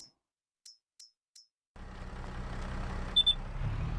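A vehicle in the farming game Farming Simulator 22 gives a few short, sharp warning beeps alone, then engine rumble takes over with a couple more quick beeps near the end; no speech.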